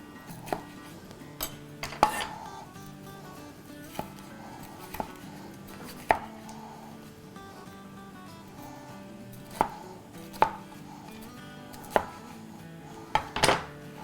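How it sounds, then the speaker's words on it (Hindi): A knife chops fresh red peppers on a cutting board while making Chinese chicken chili with noodles, with sharp, irregular close-up cuts, a few louder knocks and faint clatter of dishes in between, and no talking. "इस तरह से काट लेंगे।"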